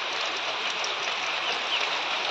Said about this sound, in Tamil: மழை பாருங்க எப்படி இருக்குன்னு